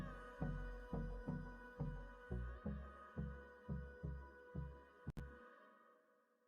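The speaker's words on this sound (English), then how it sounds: "Listen to the heartbeat." A steady heartbeat for a Chevy truck, deep double-thump pulses repeating about every 0.6 seconds, loud and close, alone with no talk, ending abruptly after a sharp click near the end.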